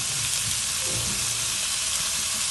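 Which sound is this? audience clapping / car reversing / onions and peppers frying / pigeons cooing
onions and peppers frying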